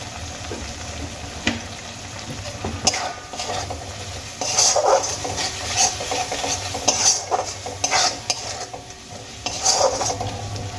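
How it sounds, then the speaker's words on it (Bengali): Spice masala seasoned with Kashmiri chilli powder and salt, fried and stirred in a pan for an eggplant and tamarind dish. A steady sizzle runs under repeated scraping strokes and sharp metal clinks of a spoon against the pan. "এবার আমি সমস্ত মশলা খুব ভালো করে কষিয়ে নেব"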